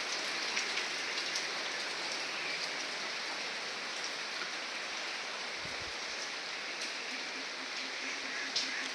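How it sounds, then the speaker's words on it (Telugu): Steady rain falls outdoors around a hillside homestay in Coorg, a dense, even hiss of drops on surfaces that holds constant throughout with no voices. "వర్షం పడుతుంది, ఫోన్ తడిసిపోద్దాము"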